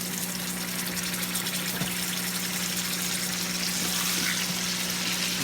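Seasoned quarter-inch pork chops, rubbed with salt, pepper and oregano, hiss steadily in a hot pan, a constant broad sizzle that stays level from start to finish.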